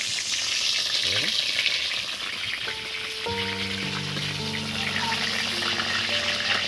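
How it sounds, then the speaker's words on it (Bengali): Whole pointed gourds (potol) fry in hot oil with a loud, continuous sizzle and crackle. A steady tonal hum joins partway through. "বন্ধুরা পটলগুলো ভাজা হয়ে গেছে"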